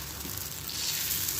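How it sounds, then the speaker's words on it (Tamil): Adai dosa batter, spread thin on a hot griddle, gives off a steady, dense sizzle. The hiss is close and even and carries on unbroken for the whole moment, with no voices. "இப்போ இதில் நம்ம இந்த அடை தோசையை வறுத்துக்கலாம்"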